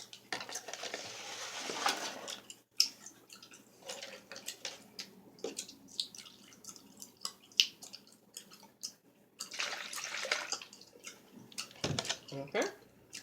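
Milk is poured from a measuring cup into a bowl in two soft splashing bursts. Light clinks of dishes and utensils come between them, all quiet and close, with a faint voice present.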